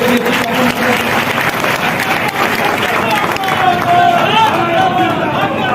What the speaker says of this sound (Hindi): तो इसके लिए तो ताली बजाइए